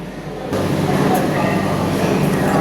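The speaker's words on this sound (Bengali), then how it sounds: "এই হচ্ছে আমাদের train, Howrah Digha তম্রলিপ্ত superfast express" Howrah-Digha Tamralipta Superfast Express train, a loud steady rumble that starts abruptly after a brief quieter moment and carries on evenly, as if heard from inside or right beside the train.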